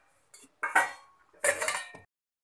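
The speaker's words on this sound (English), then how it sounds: "Now I'll mix this. You can see we need to mix it well." Utensil scraping and clinking against a bowl while mixing Mangalore bajji batter seasoned with salt, two short bursts of stirring, close and fairly quiet, with no voice.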